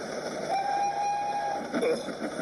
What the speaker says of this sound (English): Spencer steamed alongside, hooting and tooting.